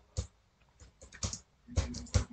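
Quiet typing on a computer keyboard: a handful of scattered keystrokes in small irregular bursts, close and soft, with no talking.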